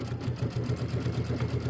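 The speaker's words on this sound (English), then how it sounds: "I'm just sewing off the fabric since it's so tight" A sewing machine stitches off the edge of tightly layered Kimberbell nativity pillow fabric, a steady close rhythmic hum with quick regular needle pulses running evenly throughout.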